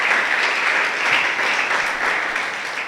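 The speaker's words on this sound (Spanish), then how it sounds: "Dele un fuerte aplauso al Señor" A church congregation gives a strong burst of applause for the Lord, a dense, steady wash of many hands clapping that stays loud throughout with no voices over it.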